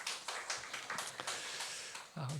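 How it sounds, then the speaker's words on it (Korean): A church congregation at a Friday worship service claps to welcome a visiting pastor and his wife: a steady patter of applause with scattered sharper hand claps, fairly faint, and a voice briefly heard near the end. "우리 목사님과 사모님 여러분 큰 박수로 좀 환영해 주시면 감사하겠습니다"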